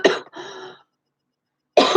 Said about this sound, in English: I'm only coughing